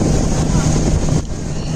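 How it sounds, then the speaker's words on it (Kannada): A boat cruising at sea on an island-hopping trip around Langkawi, with steady engine and water rush and heavy wind buffeting the microphone throughout, dipping slightly near the end. "ನಾವು ಇನ್ನ 1 hour ವರೆಗೂ ಬೋಟ್ ಅಲ್ಲಿನೇ ಜರ್ನಿ ಮಾಡ್ಬೇಕು"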